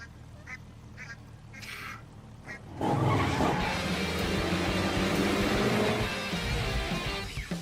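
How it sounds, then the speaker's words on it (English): A racing video game plays a bump effect as one car strikes another: quiet engine and quacking-like game sounds first, then a sudden loud impact that swells into a sustained, noisy roar and skid. "I love the sound effect of hitting the other car."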